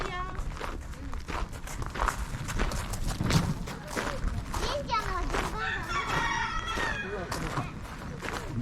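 A rooster crows at Takeda Shrine in Kofu, its call rising over crowd chatter, footsteps and general outdoor bustle, with the crow standing out faintly among the visitors.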